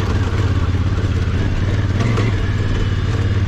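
A dirt bike engine runs loud and close while riding a mine trail, a steady throbbing drone with slight surges in throttle and no voices over it.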